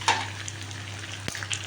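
Potatoes and eggs fry in a pan with a soft, steady sizzle close by, broken by a sharp clink of a utensil partway through.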